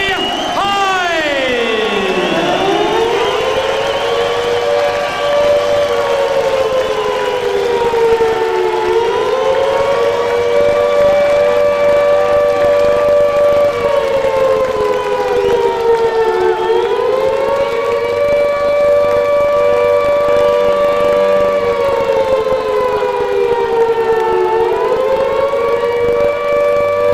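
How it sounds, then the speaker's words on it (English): A loud wailing siren rises and falls in long, slow sweeps at a heavyweight boxing match entrance for the WBO title fight, sounding continuously throughout with faint crowd noise underneath. "Sirens sounding a warning for Hide himself or for Klitschko."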